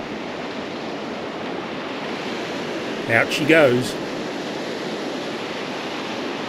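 Surf breaks steadily on a beach during a fishing session with a Shimano reel, a constant loud wash of waves with a short spoken phrase over it near the middle.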